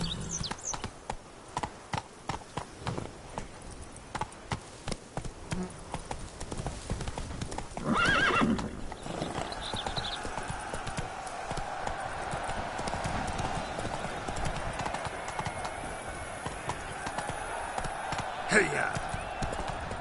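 Roach the horse gallops in The Witcher 3: Wild Hunt, with steady rhythmic clip-clop hoofbeats throughout, a brief whinny in the middle, and the pace continuing close and clear.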